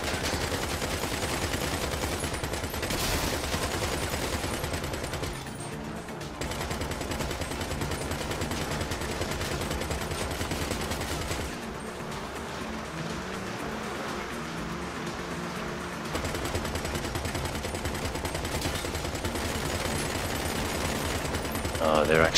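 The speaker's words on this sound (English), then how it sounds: "Oh, they're actually shooting me when I go through them." Video game gunfire rattles almost nonstop at the player, dense bursts of shots and automatic fire layered with game noise and a voice speaking over it.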